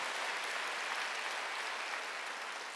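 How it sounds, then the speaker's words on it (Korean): A congregation at a Korean church Wednesday worship service gives steady, dense applause, a continuous wash of many hands clapping at even loudness throughout. "박수로 맞으세요"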